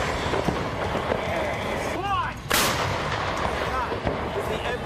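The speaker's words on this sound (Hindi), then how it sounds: "ज़ेलेंस्की ने अमेरिका से मिली M777 तोप दिखाई कि कैसे उसके धमाकों ने रूस की सेना" US-made M777 howitzer artillery firing: a sharp, loud blast about halfway through, preceded by a rising whistle-like tone, with rumbling battlefield noise and voices throughout.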